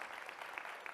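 An audience claps through a conversation event with a former Treasurer of the United States, a dense, even patter of many hands that carries on without a break across the brief moment.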